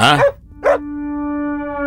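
Close, clear dog barks, two short sharp yips, followed by a sustained steady tone.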